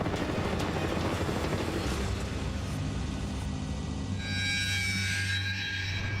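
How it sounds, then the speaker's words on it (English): A Black Hawk military helicopter roars steadily with a heavy, rumbling rotor wash and engine whine, continuous and loud throughout. "That is a military helicopter. In fact, it's a Black Hawk."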